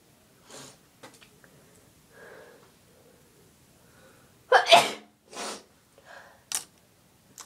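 A woman doing her eye makeup sneezes several times: a couple of faint, soft sneezes early on, then a loud burst of three or four close, sharp sneezes near the end, with quiet breathing between them and no talking.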